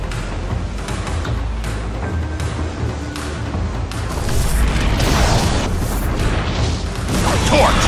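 A Fire Blast attack in Pokémon Battle Revolution erupts in a loud roaring blast with booming impacts and crackling bursts, layered over game music, building in intensity toward the end.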